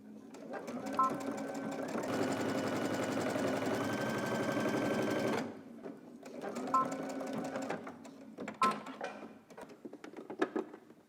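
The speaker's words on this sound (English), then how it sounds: "stretch and pull as we sewing all the way around. And don't forget, this is 3/8 of an inch seam allowance" A sewing machine runs steadily for several seconds while stitching a 3/8 inch seam allowance around a garment neckline, then stops and restarts in shorter bursts, close and fairly loud with no talk over it.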